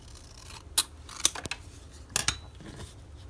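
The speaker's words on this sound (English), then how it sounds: "Let me cut the border off here." Scissors snipping the border off a small paper piece for a twinchie booklet, a few sharp close cuts in separate bursts with quiet pauses between.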